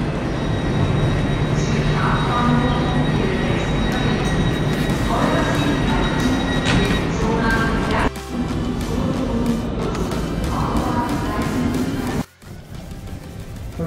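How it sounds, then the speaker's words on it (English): Heard from inside, an SBB InterCity train runs along with a steady loud rumble and clatter of the rails, with brief dips in the noise and faint murmurs of talk in the cabin. "I'm right here in the first class cabin of the SBB train."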